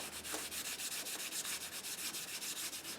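Sandpaper rubs in slow, even back-and-forth strokes along a wooden Native American flute, a close, steady rasp repeating about every fifth of a second.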